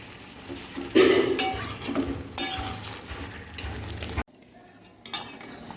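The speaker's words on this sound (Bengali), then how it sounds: "এই মশলা ধোয়ার জলটা দিয়ে খুব ভালোভাবে আর কষিয়ে নেব" Mutton curry masala is stirred and sautéed in a pot after the water used to rinse the spices is added. A spoon scrapes and clinks against the metal in several bursts over a soft sizzle, and the sound drops away near the end.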